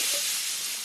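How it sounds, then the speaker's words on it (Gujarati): A pressure cooker whistles with a loud, steady rush of hissing steam that fills the short moment on its own, with no voices. "કુકર બોલાવે છે."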